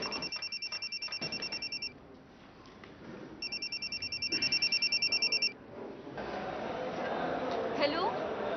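A telephone rings with an incoming call in two bursts of rapid electronic trilling, separated by a pause, while people talk indoors around it.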